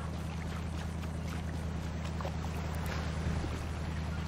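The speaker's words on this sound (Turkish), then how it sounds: "Bizim motor karaya mı vurdu ne?" A motorboat in GTA 5 drones steadily through the whole stretch, a constant low engine hum with wind and water wash over it, close and unbroken, with no talk.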